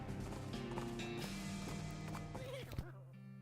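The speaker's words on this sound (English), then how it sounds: "these are cart horses" Cart horses in the video game West of Loathing clip-clop and whinny under continuous talking, with hoof steps and a neigh audible over a busy background.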